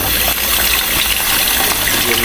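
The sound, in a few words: water poured for washing hands at a Hokkaido shrine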